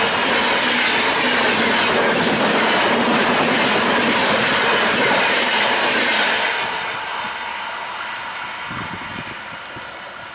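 Kolkata–Silchar Kaziranga Express on a diverted route roars past close by, loud and steady with clickety-clack and a faint wheel squeal, then fades as the last cars recede.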